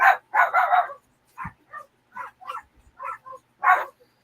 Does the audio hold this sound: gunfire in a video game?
no